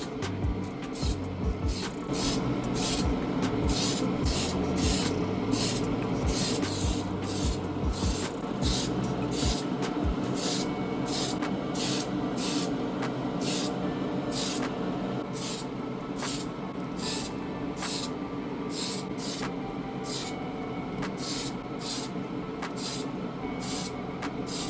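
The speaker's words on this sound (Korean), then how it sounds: "이제 나머지 부품들도 모두 서페이스를 덮어줍니다." White surfacer primer sprayed from a can onto Aoshima 1/24 AE86 Trueno model kit parts, a steady loud hiss lasting throughout with rapid rattling clicks from the can running alongside it.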